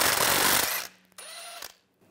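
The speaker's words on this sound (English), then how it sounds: "Using a 14 millimeter wrench and a 14 millimeter socket, take the nuts and bolts out." 14 mm ratchet and socket backing nuts and bolts out of a 2003-2008 Infiniti FX35 rear hub assembly, a dense, close clicking burst followed by fainter metallic ticks and a short ringing tone.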